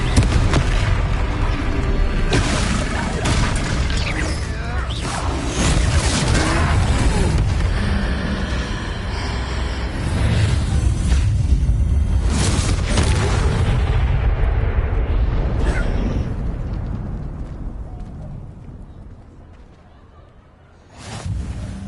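Loud, booming blasts from fire-spell explosions during a troll fight in the Hogwarts Legacy video game, layered with rumbling impacts and whooshes that fade toward the end, with a voiced line over the action.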